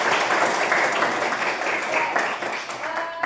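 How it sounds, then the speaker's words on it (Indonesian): Junior high students in a science classroom clap together, a loud, dense patter of hands at close range that stays steady for a few seconds and thins near the end. "Tepuk tangan dulu untuk kita semua."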